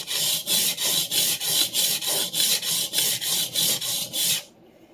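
A vintage Clyde Cutlery chef knife is drawn across a Suehiro whetstone in a steady series of about a dozen rhythmic, raspy strokes, close and alone, ending abruptly.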